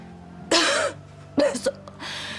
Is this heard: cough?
yes